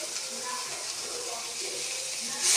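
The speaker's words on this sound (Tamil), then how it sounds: "கரைசலை இதில் ஊற்றிடுறோம்." A tomato and tamarind solution is poured into a pot of onion rasam seasoned with asafoetida, producing a close, continuous watery splashing and gentle sizzle that swells slightly at the end.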